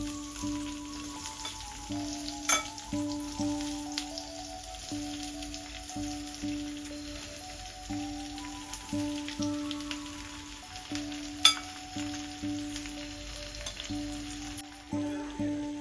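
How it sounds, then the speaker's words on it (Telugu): Red chili pieces fry in hot oil for a pickle, giving a steady, close sizzle with faint crackles and a few sharper pops, with no voices. "ఆయిల్ వేడైన తర్వాత మనం కట్ చేసుకున్న ఈ పండు మిరపకాయ ముక్కలని అందులో వేసుకోవాలి"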